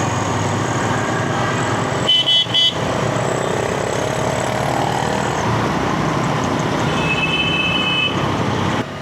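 A group of about ten motorcycles on a rural road to Manki Sharif, KPK, with steady engine and traffic rumble throughout and short horn toots near the start and again later, loud and close.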